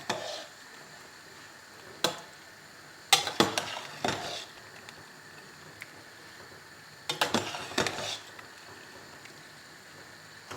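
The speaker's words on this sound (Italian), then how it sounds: "Andiamo a mescolare per bene." A spoon stirs penne rigate with vegetable sauce in a pot, giving intermittent scraping and clattering bursts against the metal over a faint background hiss.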